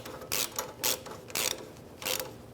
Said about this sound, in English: Same 14mm socket. We're going to snug these up.